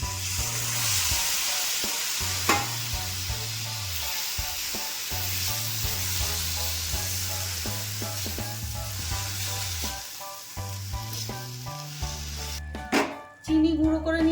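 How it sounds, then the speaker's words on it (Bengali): Grated carrots fry in ghee in a wok as milk is poured in, a steady close sizzle and bubbling set against rhythmic background music, with no talk. "সেই দুধ দিয়ে দিচ্ছি"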